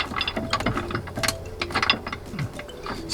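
Ratcheting clicks from screwing spacer screws for Smittybilt grab handles on a Jeep JKU, a rapid, close, continuous series of metallic pawl clicks with short pauses between turns.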